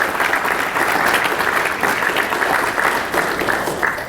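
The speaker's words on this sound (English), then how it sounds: "Can we have a round of applause for those individuals?" An audience at a school leadership summit gives a steady round of applause, dense clapping sustained throughout and tapering slightly at the end.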